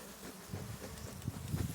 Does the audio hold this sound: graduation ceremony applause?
no